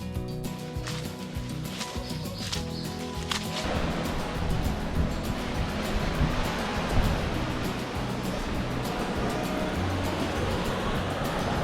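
Ocean surf washes steadily onto the black-sand shore of Black Beach in Dominica, a broad continuous roar that builds after a few seconds and stays loud and close, with no talking.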